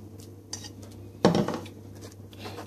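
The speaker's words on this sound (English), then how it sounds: "mix your sardine or your mackerel with the onion" Mackerel or sardine is mashed with onion in a bowl for a Bengali-style fish chutney, with a couple of soft utensil taps and then one louder scrape and clatter against the bowl.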